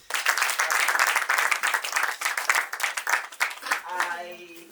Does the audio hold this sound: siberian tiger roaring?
no